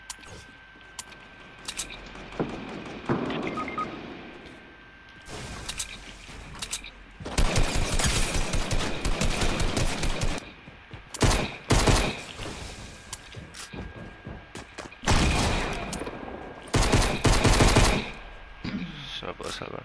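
Shotgun blasts from Fortnite gameplay, loud and close, firing in dense bursts of repeated shots separated by short pauses, with other game sounds between volleys.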